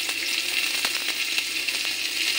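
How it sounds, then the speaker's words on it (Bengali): Chopped onions fry lightly in hot oil with bay leaf and whole cumin, a steady close sizzle with faint occasional stirring scrapes, no voices. "পেঁয়াজটাকে হালকাভাবে ভাজা করে নিই,"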